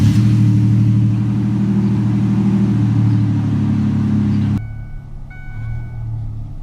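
A 2001 Ford Ranger XLT pickup engine rumbles steadily at idle up close, a low droning hum that drops abruptly partway through to a quieter, settled running note.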